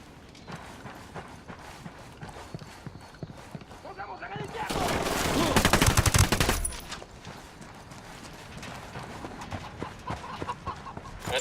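Gunfire in the Ghost Recon Wildlands video game, a dense burst of rapid shots swelling loud for about two seconds midway, surrounded by quieter ambient game noise and clattering hoofbeats.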